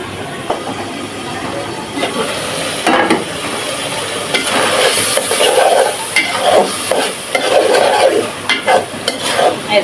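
Spices sautéing in a pan with repeated stirring scrapes and a steady sizzle that grows busier midway, close by, with no voices.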